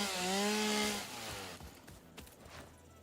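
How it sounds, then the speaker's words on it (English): A chainsaw revs loudly in the video game Satisfactory, a strong buzzing whine for about a second, then cutting through trees with crunchy bursts and cracking as the tone drops away. "Because we can just chainsaw it."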